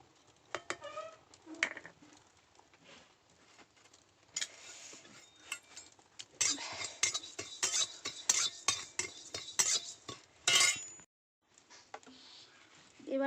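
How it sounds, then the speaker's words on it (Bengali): Cumin seeds frying in a wok, with soft intermittent scraping and clinking of a utensil against the pan and patches of faint sizzle, quiet and close, stopping briefly near the end. "আমি ওই কড়াইতে একটুখানি জিরে ভেজে নেব।"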